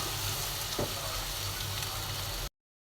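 Eggs frying and being stirred with onion greens in a pan, a dense steady sizzle heard up close with a faint stir partway, cutting off abruptly before the end.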